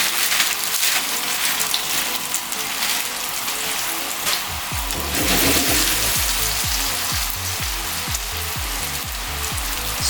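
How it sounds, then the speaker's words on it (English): Chicken frying in hot oil in a pan that is too small for a large batch, giving a dense, loud, continuous sizzle with rhythmic stirring scrapes in the second half. "Yeah, look at that sizzling."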